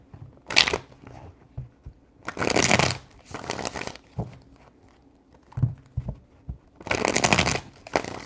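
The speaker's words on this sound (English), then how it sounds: "Three shuffles." Tarot cards are shuffled in three separate bursts, each a dense, crisp riffling rush, close and clear, with quieter handling taps and rustles between them.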